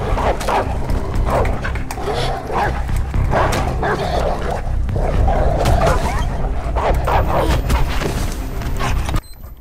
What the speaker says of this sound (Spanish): Estábamos peleando con los pinches perros